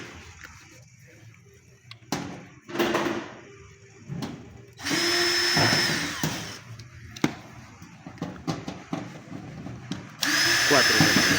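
Power drill backing screws out of a Daewoo inverter washing machine during disassembly, several short whirring bursts separated by clicks, handling noise and brief pauses, loud and close, with a longer run at the end.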